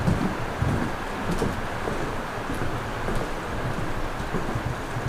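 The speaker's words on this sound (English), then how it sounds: "It's a driving rainstorm going on right now outside" Steady, dense hiss of a driving rainstorm pouring outdoors at a mansion, with gusty low rumbles like wind buffeting the microphone throughout; no voices.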